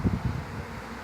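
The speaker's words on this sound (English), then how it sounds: "bees in the air, and seems to be arriving on where the other swarm already was" Swarm of bees flying through the air, a soft, dense buzzing hum with a few low gusty thumps at the start, faint and continuous.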